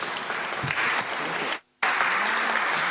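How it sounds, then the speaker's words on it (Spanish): A dense crowd applauds loudly and steadily at a seminar, with a brief cut to silence partway through before the clapping resumes. "Fuerte aplauso."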